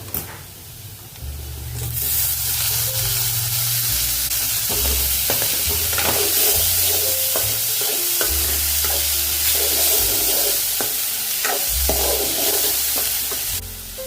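Onions and tomatoes fry in a pan for chana moong dal, a loud steady sizzle with repeated scraping stirs and rhythmic low knocks of a spoon against the pan, continuous and close with no talking.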